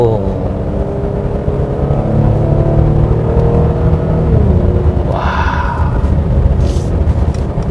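A Mercedes E450 with a 3.0-litre six-cylinder engine accelerates in Sport Plus mode, a loud, close, rising engine drone with harmonic tones that climb and then drop into a brief whir near the end.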